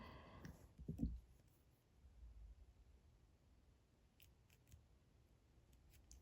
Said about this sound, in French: je vais remonter jusqu'en haut du tissage pour pouvoir couper mon fil